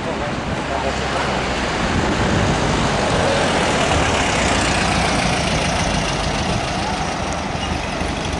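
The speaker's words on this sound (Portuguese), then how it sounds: "Mais um carro de um cidadão de Juquitiba indo embora." A car in Juquitiba, Brazil, pulls away with a steady, fairly loud engine drone that holds for several seconds against a rough, noisy outdoor background.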